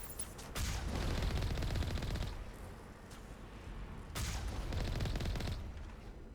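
Gunfire from the video game Mass Effect 1 comes in two sustained bursts of rapid, loud shots separated by a short lull, with a dense rattling fusillade in each.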